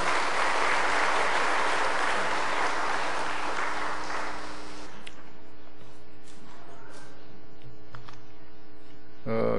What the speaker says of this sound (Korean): 큰 격려의 박수 보내주시기 바라겠습니다